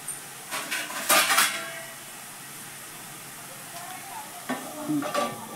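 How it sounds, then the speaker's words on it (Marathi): Green beans with masala roast in a covered pan over low heat, giving a soft steady sizzle broken by a few clinks and scrapes of utensils against the pan. A voice speaks briefly and faintly. "यावर थोडं 2 मिनिटं मी झाकण ठेवून भाजून घेते"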